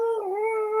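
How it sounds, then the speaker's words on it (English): A dog howls in a single sustained, tonal wail that wavers slightly in pitch, clear and steady, with no talking over it. "You can hear that dog in the background."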